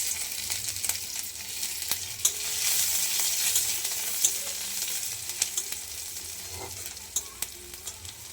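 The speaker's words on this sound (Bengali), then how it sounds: "রসুনটাকে লাল করে ভেজে নিব একটু" Garlic frying in hot oil over a lowered gas flame, a soft continuous sizzle with occasional spatters and pops, moderately close and fairly quiet, no voices.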